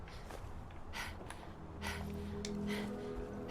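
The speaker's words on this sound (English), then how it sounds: "I hate that panting sound." A Fallout 4 character panting while sprinting, a quiet repeated rhythm of breathy inhales and exhales over faint game ambience.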